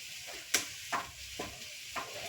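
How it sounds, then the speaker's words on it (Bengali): Onion and chili fry quietly in a wok, a faint steady sizzle broken by four soft scraping stirs at regular intervals. "পেঁয়াজ মরিচ শীতল একসাথে ভাজা করছি"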